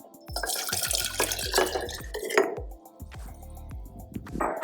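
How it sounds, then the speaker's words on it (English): Olive brine is poured from a small mason jar into a larger jar, giving irregular splashing trickles and drips with a few glassy clinks, close and fairly quiet. "we're gonna just transfer that into this larger jar"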